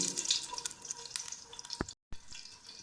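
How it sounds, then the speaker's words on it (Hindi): Jaggery water is poured into a pan of fragrant cardamom seeds, giving a faint, continuous hiss and splash with small crackles and drips, then a brief silent gap before the liquid noise resumes. "मैं इसके अंदर ये वाला गुड़ का पानी डाल दूंगी"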